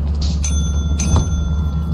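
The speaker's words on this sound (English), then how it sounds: "Keep ringing the bell." A bell rung in the video game Lethal Company, with two bright metallic dings about half a second apart, the tone ringing on briefly over a low background rumble, with no voices.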